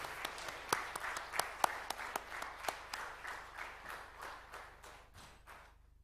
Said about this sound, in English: a big round of applause for everyone here